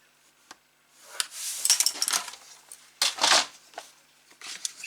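A bone folder scoring fold lines into paper during a papercraft folio build, heard as close dry rubbing and scraping strokes in irregular bursts with light paper crinkles between them.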